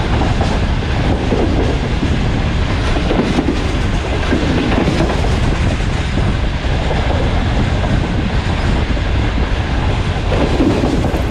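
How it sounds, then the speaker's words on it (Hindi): Karakoram Express, a premium train probably led by a G40 locomotive, approaching a crossing at speed; a steady loud rumble with rail clatter fills the whole stretch and holds constant throughout, with no voices. "कराक्रम एक्सप्रेस काफ़ी करीब आ चुकी है"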